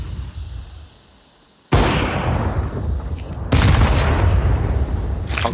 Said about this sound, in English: A good grenade.